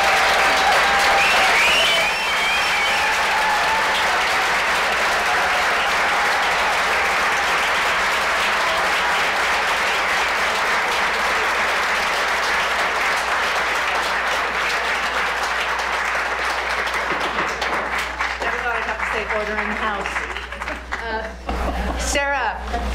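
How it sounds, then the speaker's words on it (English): A packed city council chamber breaks into sustained, dense applause from the audience, going on for nearly twenty seconds before thinning out as voices and shuffling take over. "stand up or applaud?"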